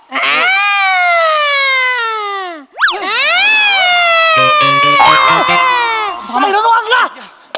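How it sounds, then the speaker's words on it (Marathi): A comic siren sound effect in a courtroom comedy sketch, with loud rising and falling wails that sustain for several seconds, briefly cut off, then resume before ending in warbling bursts. "हा वाजला तो सायरन"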